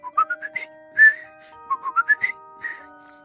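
A human whistler imitates a bird's song with a quick run of short, bright rising notes, a longer warbled note, then another rising sequence and a final trill, clear and close with no other sound.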